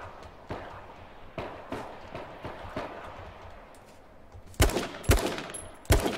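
Gunfire in the survival game Just Survive: a string of soft distant shot cracks, then three louder sharp sniper-like shots close by near the end.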